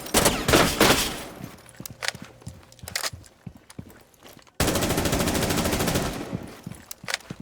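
Rapid automatic gunfire in Rainbow Six Siege, loud close bursts of shots broken by brief pauses and footsteps, ending in a long sustained volley.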